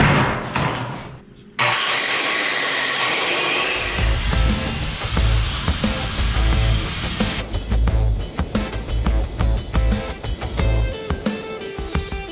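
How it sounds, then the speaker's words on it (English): A circular saw cuts through metal roofing sheet: a sharp startup, then a loud, harsh, continuous whine and grinding rasp that holds for about ten seconds before easing off, close to the listener and without speech. "Circular saw cut on the metal roofing."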